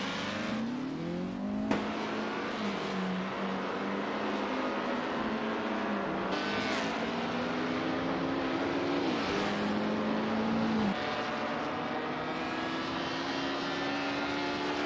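Vintage 1950s Formula One cars racing around the Bahrain circuit in a racing video game, engines droning and rising in pitch as they accelerate, with several cars passing close in a steady loud roar throughout.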